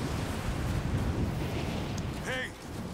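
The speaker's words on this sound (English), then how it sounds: "Oh, it's a bit windy." Wind roars steadily across a mountain climb in Rise of the Tomb Raider, a dense, blustery rush that fills the whole stretch, with a brief vocal sound near the end.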